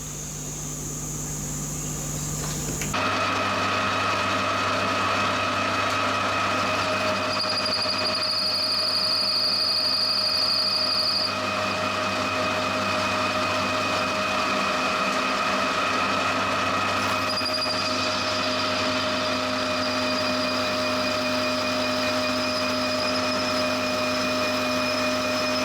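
A Bridgeport style milling machine spins a 10mm cutter through a coated workpiece, a steady motor whine with tonal hum that starts abruptly after a quiet moment, punctuated midway by a brief higher-pitched squeal of cutting, continuous and close.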